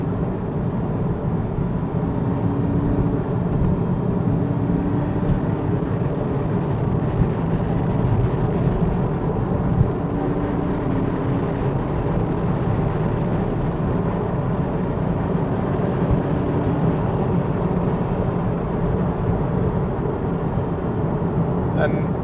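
A Porsche 911 997.1 Carrera S cruises at about 60 mph on a winding road, a steady low engine drone and road rumble throughout, with a person talking over it.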